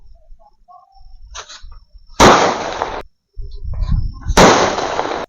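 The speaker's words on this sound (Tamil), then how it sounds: "அடுத்து இந்த பெரிய சைஸ் லட்சுமி வெடி வைக்கலாம் வாங்க" A large Lakshmi firecracker from a Diwali crackers gift box bursts twice with sharp, loud, close cracks, each blast followed by a rushing hiss, with faint voices and quieter sputtering between the bangs.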